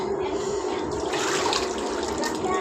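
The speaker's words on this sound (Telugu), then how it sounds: "ఈ నీళ్ళలో పోవాలి." Water in the flooded entrance passage of the Narasimha Swamy cave temple at Bidar gives a loud, close, continuous rushing splash as people wade through it, with voices underneath.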